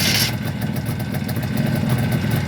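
A Soviet Jupiter motorcycle engine is started and settles into a loud, steady, rough idle close by, with a short higher burst at the start.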